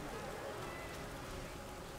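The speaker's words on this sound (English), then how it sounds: "There is rain, Theodin." Rain falling on a battlefield in the Battle for Middle-earth strategy game, Age of the Ring mod at Helm's Deep, a steady, dense hiss of downpour that stays even throughout, fairly faint, with no voices.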